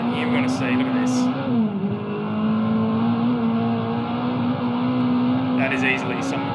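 A Peugeot race car on its 1988 Pikes Peak record run, its engine droning loud and steady with a sustained rising and falling tone, while a voice talks over it throughout.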